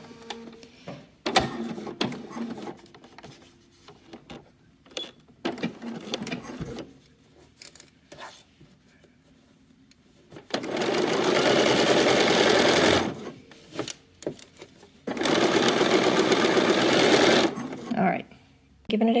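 A home sewing machine stitches a blouse seam in short bursts and two longer steady whirring runs, with quiet pauses and handling noises between them.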